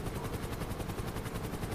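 Steady whirring rotor chop of a helicopter in Grand Theft Auto V Online fills the clip, dense and continuous with a busy mechanical rumble underneath, no voices.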